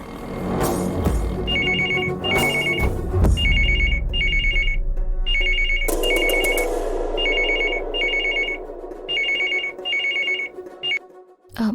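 A landline telephone rings in repeated short electronic bursts, roughly eight evenly spaced double rings, following a burst of music and some brief noise at the start.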